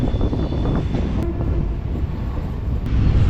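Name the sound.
MRTS suburban train running, Chennai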